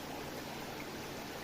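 River water flowing in Jamaica, a steady close rushing wash with no other sounds.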